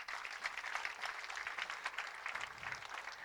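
Applause fills a room at a church prayer gathering, a dense and steady patter of many hands clapping all the way through, heard at a moderate distance.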